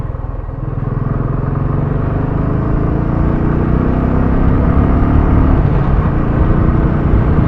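Royal Enfield Classic 350 single-cylinder engine running steadily while riding, a smooth, loud, continuous low thump that rises slightly in pitch as the bike gathers speed, close to the microphone with no talk.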